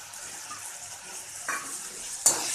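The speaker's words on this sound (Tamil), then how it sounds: "ஒரு 1 மினிட் வந்து அந்த சாம்பார் பொடி வந்து எண்ணெயில் நல்லா வதங்கட்டும்." Sambar powder fries in hot oil for a cauliflower curry, giving a gentle continuous sizzle with a couple of brief stirring scrapes near the end.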